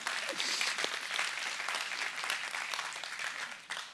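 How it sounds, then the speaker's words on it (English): A congregation claps for a group of volunteers, a fairly faint, full-room patter of many hands heard from a distance, holding steady before tapering near the end. "you can clap for them"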